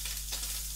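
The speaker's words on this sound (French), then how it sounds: "on va juste les faire revenir la poêle, mais c'est juste pour les colorer" Scallops sear in a very hot pan with a drizzle of olive oil, a brief close steady sizzle with hissing over a low hum.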